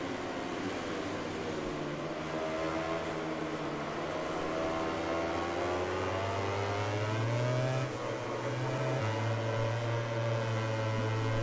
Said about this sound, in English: Bikes are flying past us already.